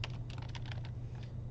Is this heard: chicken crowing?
no